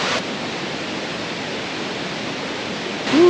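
Tad Lo waterfall on the Bolaven Plateau in Laos, a steady, full broadband rush of falling water that holds evenly throughout with no voices.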